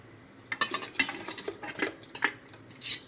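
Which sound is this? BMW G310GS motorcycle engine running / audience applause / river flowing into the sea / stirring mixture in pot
stirring mixture in pot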